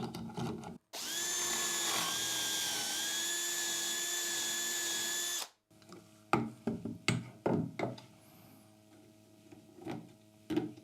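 A power drill bores a dowel hole through a cheap dowel jig in one loud, steady whine lasting about five seconds, followed by close knocks and clatter as the tool and workpiece are handled; no talking.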